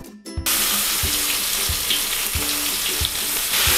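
Pounded onions hit hot oil in a pan while cooking sambal with anchovies and fried tempeh, setting off a loud, steady sizzle after a brief quiet start, with occasional clatters of stirring and no talk.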